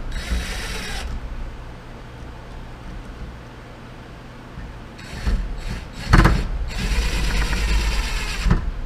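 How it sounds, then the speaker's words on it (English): A handheld power screwdriver drives screws to fix an electrical outlet into a panel box, giving a loud steady whir for about a second, a pause of handling noise, then several more bursts of motor buzzing close by. "To get that outlet in place, grab your handy dandy power screwdriver."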